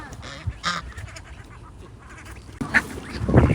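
Domestic ducks quack on a farm pond where chickens roam nearby, a few calls early on, then a louder burst of quacking and splashing close by toward the end.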